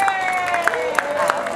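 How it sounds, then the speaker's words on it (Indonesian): Audience applause for a speaker at an Indonesian job and career festival, dense crowd clapping with distinct sharp claps over a sustained tone, moderately loud and steady. "Tepuk tangannya yuk."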